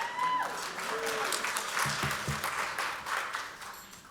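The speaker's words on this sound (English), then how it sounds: "You can clap any time at this gala. We take applause at any time." Audience applause at an arts gala benefiting FTD, a broad, steady wash of many hands clapping throughout, fading slightly toward the end.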